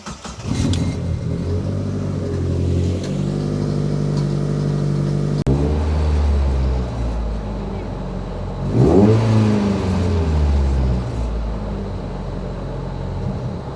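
A turbocharged Mazda MX-5 Miata on a dyno starts up and revs, its engine note rising and falling in loud, close sweeps with a sharper rev burst partway through, then settling back to a steady idle.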